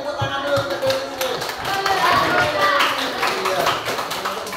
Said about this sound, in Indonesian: Tepuk tangan dulu untuk Dennisnya.